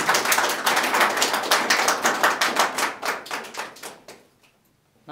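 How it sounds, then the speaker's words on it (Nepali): An audience at a DXN leaders' event in Nepal breaks into dense applause that holds steady and then thins into scattered claps before dying away. "उहाँको लागि जोरदार ताली।"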